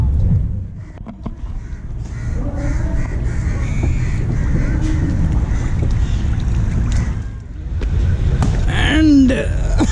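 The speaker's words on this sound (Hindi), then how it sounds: "एंड हो गई फेरी राइड कंप्लीट" Ferry ride on the Ganges at Princep Ghat, Kolkata: a steady low engine and water rumble runs throughout, with wind buffeting, crows cawing and distant talk and music over the top.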